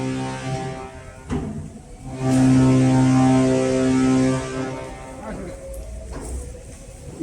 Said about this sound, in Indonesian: kedengaran tuh suara kapal mau berangkat